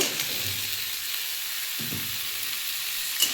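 Boiled elephant foot yam sautéing in oil in a pan, a soft continuous sizzle with a couple of stirring scrapes and a brief clink near the end.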